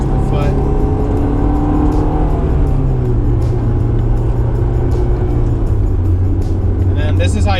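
A car engine held at a steady droning pitch that shifts downward partway, heard from inside the cabin of a manual-transmission car during rev matching while people talk over it.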